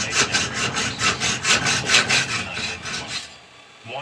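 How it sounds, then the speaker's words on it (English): A hand saw cuts through metal spacers while working on a go-kart, with about a dozen rhythmic, close, rasping back-and-forth strokes that stop near the end. "So we got some metal spacers we're cutting."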